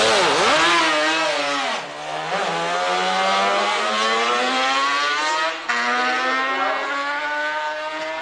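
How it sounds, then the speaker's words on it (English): A 1973 two-stroke racing motorcycle engine, dangerously low on oil and beginning to misfire, screams close and loud with a rising whine, dropping off twice briefly before climbing again. "the machine is dangerously low on oil and the engine beginning to misfire"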